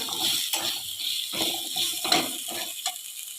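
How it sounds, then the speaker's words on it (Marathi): Chopped red pumpkin is stirred and sautéed in hot oil, with a soft sizzle under repeated scraping and stirring strokes. The sound is fairly quiet and close, with no talk. "आता घालूया लाल भोपळ्याच्या बारीक केलेल्या पोळी आता अर्धा मिनिटभर चांगलं तेलात परतून घेऊया"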